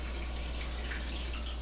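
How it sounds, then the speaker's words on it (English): Water being poured to fill an Instant Pot, a faint continuous trickling splash over a low steady hum. "So I have some water here, and I'm just going to fill this up"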